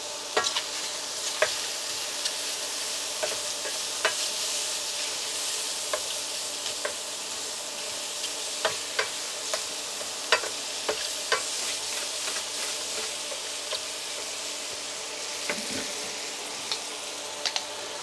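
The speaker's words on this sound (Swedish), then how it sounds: "Och i med ungefär en 2-3 matskedar smör i svampen." Chanterelle mushrooms fry in a few spoonfuls of butter with a continuous close sizzle, peppered with frequent small pops and crackles throughout.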